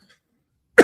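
A single short, sharp cough from a man bursts out at the very end after near silence, close and fairly loud.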